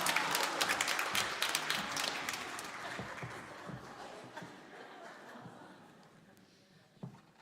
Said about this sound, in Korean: 박수 한번 크게 해주시기 바랍니다.